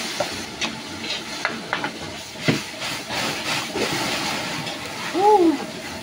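Garlic, onion and mushroom sizzling in an oiled pan, a steady soft hiss with occasional stirring clatter, heard under a speaking voice.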